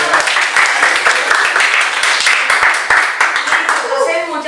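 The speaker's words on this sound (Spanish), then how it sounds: "un aplauso para ustedes." A round table audience applauds at close range, a dense, steady wash of many hands clapping that carries on for several seconds and tapers slightly at the end, with voices mixed into the clapping.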